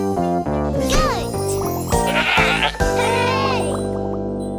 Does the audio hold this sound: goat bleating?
yes